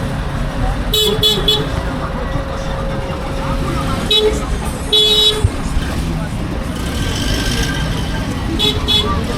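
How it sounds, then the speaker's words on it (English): Car horns toot repeatedly in busy traffic in Kenya, several short beeps over a steady road rumble of passing vehicles, with a person talking throughout. "Honking in Kenya is very much normal."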